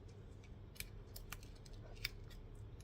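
Scissors snip through paper in a few sharp, close cuts spaced irregularly over a quiet background.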